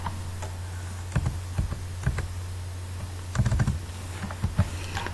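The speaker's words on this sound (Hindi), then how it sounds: "अल्ट और इंसर्ट आपने एक साथ प्रेस करना है" Sparse typing on a computer keyboard while coding Java in an editor: scattered soft key clicks and small clusters of presses over a low steady hum, fairly quiet and close.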